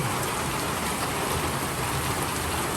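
Steady, dense rain pours down in a constant hiss in the Great Smoky Mountains, loud and close, with no talking.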